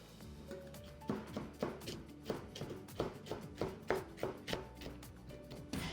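Knife chopping walnuts finely on a board for cookie filling, a quick steady run of close rhythmic thuds and taps with no talking.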